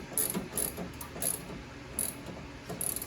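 A ratchet cranks down the battery hold-down on a 2016 Chevrolet Suburban, five or six short bursts of rapid pawl clicking separated by brief pauses, close and clear, with no voices.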